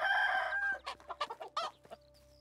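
Chickens clucking in a barnyard coop in the medieval survival game Medieval Dynasty: a run of loud, close clucks and squawks in quick bursts, fading out toward the end with no one talking.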